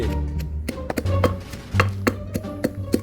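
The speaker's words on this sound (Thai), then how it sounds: "นี่หั่นปลานะครับ ต้องหั่นแนวขวาง" A knife chops fish crosswise on a cutting board with repeated irregular, sharp knocks, close and clear, over a low background hum.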